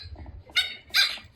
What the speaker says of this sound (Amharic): ቤታቸው ሰው ሲመጣ ውሻቸው በዚህ ልክ ነው የምትጮኸው ተብሏል።